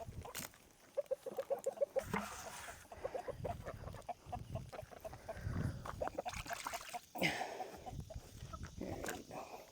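Hens on a farm cluck and murmur in a rapid, uneven stream of short notes, close and moderately loud, with some scratching and shuffling movement underneath.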